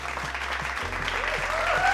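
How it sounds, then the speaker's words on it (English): Applause for sponsors at a virtual women's organization show, a continuous wash of clapping mixed with a low hum and faint background sounds. "Let's give our sponsors a round of applause."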